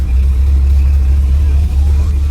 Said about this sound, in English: there's always a line of traffic that we have to sit in